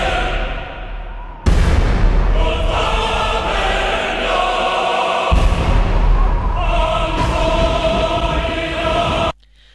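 Grenade explosions in a comedy skit about a heavy trooper, a long booming blast that fills several seconds, then a second loud blast rolling on for more seconds before cutting off, with no talk over it.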